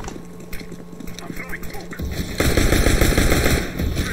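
Rapid automatic gunfire from the video game Counter-Strike: Global Offensive during a competitive match, bursting loudly in the second half over steady background game noise, with a player talking.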